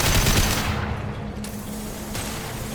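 Gunfire in the video game Mass Effect 2, a dense, continuous rattle of automatic shots, loudest at the start and then holding steady under a thick wash of battle noise.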